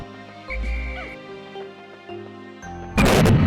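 A bomb rock detonates in the Pikmin video game, a sudden loud broadband blast near the end that follows a stretch of game music and small cartoonish effects.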